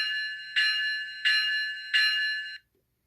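Bell of a Kato ES44AC model locomotive with an ESU LokSound decoder, ringing three steady metallic tolls in an even rhythm before stopping abruptly, clear and close with no talking.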